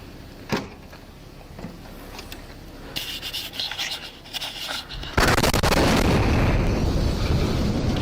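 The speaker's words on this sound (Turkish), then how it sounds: "Sadece 15 dakika sonra karavan bir binanın yakınında patladı." A camper van explodes near a building, a sudden loud blast with a sharp onset that becomes a sustained roaring, crackling burst, preceded by fainter bangs and rustling.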